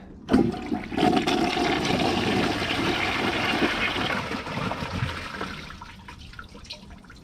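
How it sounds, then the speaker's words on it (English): A 2006 Mansfield Alto toilet flushes during a clog test, a loud rushing gush starting abruptly and roaring steadily for several seconds before tapering into trickles and gurgles, with no talking. "Since this toilet clogged on a grocery bag alone for the first time, this is going to clog hard."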